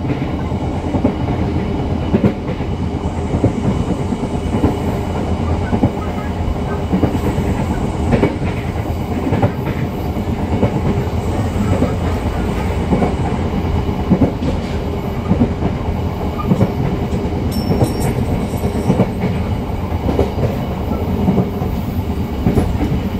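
Dense, roaring rumble of a passenger train at speed, heard from aboard, with constant wheel noise and faint clickety-clack over the rails, steady and loud throughout without a break.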